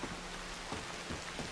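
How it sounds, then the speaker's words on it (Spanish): Steady, dense rainfall in the video game Red Dead Redemption 2 hisses evenly with soft patters of drops, no voices, a continuous wash of rain. "El sonido de la lluvia"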